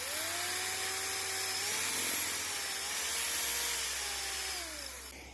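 Power drill boring holes in a wooden block for a bee hotel, a loud steady whine and grind that shifts pitch slightly as the bit works the wood, then trails off near the end.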